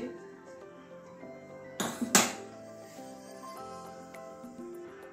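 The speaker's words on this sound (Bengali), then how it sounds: "কড়াইটা বসিয়ে দিচ্ছি।" A metal wok (kadai) is set down on a lit gas stove, giving two sharp, close metallic clanks a moment apart over a steady tonal background.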